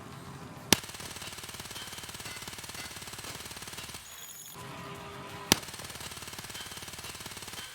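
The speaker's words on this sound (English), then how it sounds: "the Vector has a fire rate of 950 RPM, which is very high, and as you can see, it's very controllable" Vector SMG firing full-auto at about 950 rounds per minute in Escape From Tarkov, two long, fast, steady bursts with a brief pause between them, loud and close.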